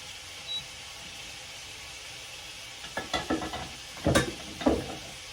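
A ground beef burger fries in a pan with a low, steady sizzle, joined later by a few sharp clatters and scrapes of stirring or a spatula, close and fairly quiet.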